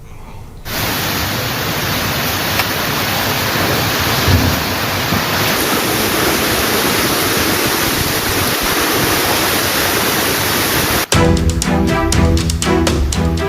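Heavy rain pouring down over part of Jakarta near Lapangan Banteng, a loud dense steady hiss that starts abruptly and runs unbroken, then cuts off sharply into a different sound near the end.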